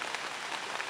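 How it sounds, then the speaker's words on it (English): Rain falling on Turkey Creek, a paddling stretch feeding the Oconee River, a dense steady patter of drops on water and surfaces, close and even throughout with no voices. "Raining on Turkey Creek."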